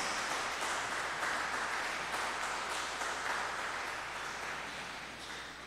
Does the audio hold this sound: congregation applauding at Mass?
yes